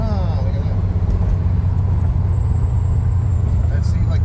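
Chevrolet Camaro driving, with a steady low engine rumble and road noise filling the cabin at an even level throughout, under occasional voices.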